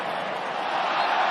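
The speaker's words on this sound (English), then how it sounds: "appreciative applause" Football stadium crowd at a Tottenham versus Southampton match giving appreciative applause, a broad steady roar of clapping and crowd noise that swells slightly toward the end.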